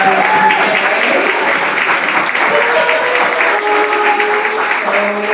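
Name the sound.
audience applause at poetry event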